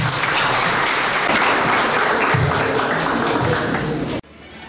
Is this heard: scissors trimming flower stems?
no